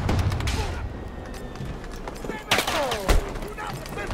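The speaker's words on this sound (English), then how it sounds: "Why are my teammates shooting me?" Teammates firing in a tank battle game, a run of gunshots and heavy cannon-like bursts, with two sharp loud blasts near the end amid steady battlefield rumble and a voice talking.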